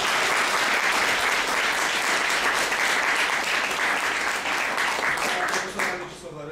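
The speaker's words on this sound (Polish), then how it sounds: "Proszę o brawa do naszych prelegentów." A conference audience applauds the speakers at an evening event on the Silesian Uprisings, a loud, dense burst of clapping that holds steady before thinning out near the end.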